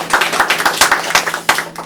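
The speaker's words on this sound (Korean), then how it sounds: "박수 한번 주세요" An audience at a talk-show-style discussion on AI creations gives a short round of applause, a few loud, distinct claps over a scattered patter of hands.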